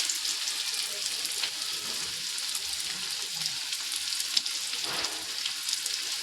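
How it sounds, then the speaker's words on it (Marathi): Chopped onion sizzles steadily in a generous amount of hot oil for a Marathi ghevda bhaji, a dense continuous frying hiss close by with a few soft stirring scrapes. "यस, कांदा टाकला आपण."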